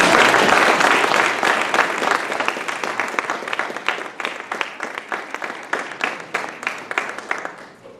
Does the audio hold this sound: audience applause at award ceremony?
yes